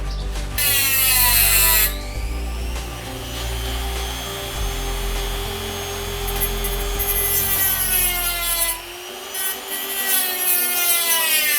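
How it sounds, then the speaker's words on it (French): A Dremel rotary tool cuts a slot into a stuck screw during crankshaft bearing work on a Derbi Senda moped, giving a steady, loud, high whining grind that shifts pitch as it bites. "on va essayer de lui faire une empreinte au Dremel pour y aller au tournevis plat déjà"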